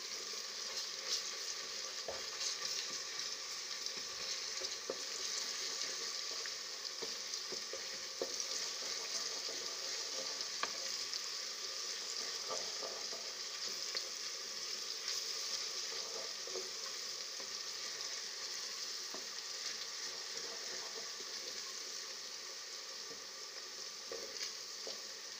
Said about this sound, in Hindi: इसके अंदर अदरक लहसुन का पेस्ट शामिल करें। एक मिनट के लिए भूनें इसको।